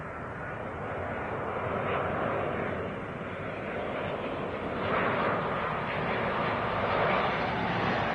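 An Embraer jet on its takeoff roll from runway 24 left at LAX, a broad steady roar that swells slightly and holds loud throughout, with no voices.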